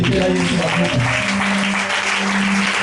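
A church congregation applauding in praise, a dense steady clapping under a loud voice speaking over it.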